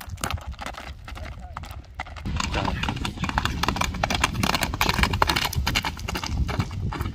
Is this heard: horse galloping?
yes